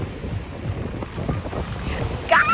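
Steady wind buffets the microphone over a low, broad wash of ocean surf in Saint Martin, with a brief higher whistling tone near the end.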